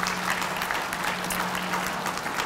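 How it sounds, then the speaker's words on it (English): Seminar audience applause, a steady wash of many hands clapping at moderate volume from across the room, sustained evenly without a break. "please give the interim membership committee a round of applause for all the work they do all year long"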